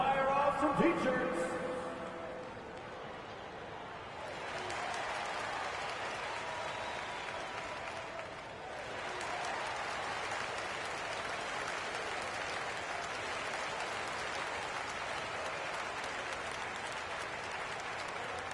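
An NBA 2K25 basketball video game arena crowd cheers and applauds during a timeout, a broad steady roar that swells after a few seconds and holds, with an announcer talking over it at first.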